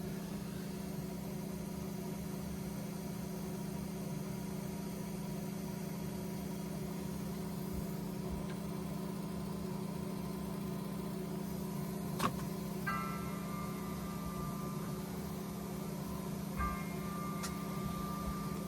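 A vinyl record cutting lathe cutting grooves, a steady low mechanical hum and drone with a constant tonal whine, joined later by faint chirping tones and a couple of soft clicks.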